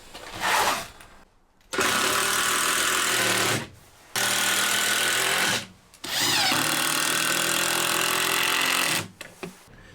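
A power drill drives normal screws into a large piece of wood inside an LT35 camper van, three long whirring bursts separated by short pauses, loud and close.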